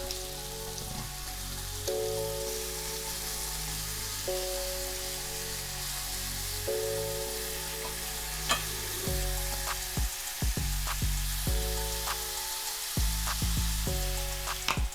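Shrimp frying in a pan during keto meal prep, flipped partway through, with a steady hiss and crackle of sizzling oil and occasional sharper pops and scrapes, all under background music.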